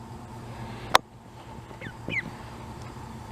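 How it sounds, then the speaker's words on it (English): Crows cawing outdoors near a rescue duckling, a few short harsh calls at a distance after a sharp nearby knock, with no talk. "the crows started going nuts, Kylo started going on alert"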